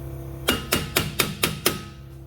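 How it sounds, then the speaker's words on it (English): Six evenly spaced metallic hammer taps on a stuck Nissan rear wheel hub bearing ring out in a steady rhythm, close by, each with a brief clanging decay. "I'm going to just try to tap this thing with a hammer to try to get it out"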